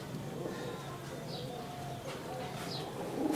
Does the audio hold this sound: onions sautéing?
no